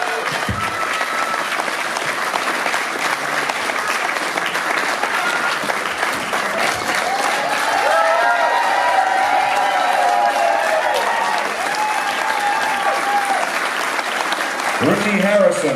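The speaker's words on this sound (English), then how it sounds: "Give a round of applause." An audience at the AMC Hall of Fame induction ceremony for a band applauds steadily, a dense wash of clapping with scattered cheers that holds loud for about fifteen seconds, with voices mixed into the crowd noise.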